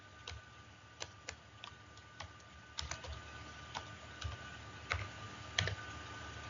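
Sparse keystrokes tapped on a computer keyboard while writing a short comment in programming software, irregular light clicks at a moderate pace, close and quiet with no talking.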